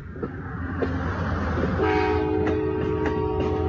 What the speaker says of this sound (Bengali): তাই তো ট্রেন ছেড়ে দিল